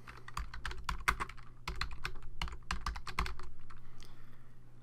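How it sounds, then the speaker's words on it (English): Quick, irregular clicks of typing on a computer keyboard, close and fairly quiet, in short bursts with brief pauses and a low background hum. "And make sure I type that right."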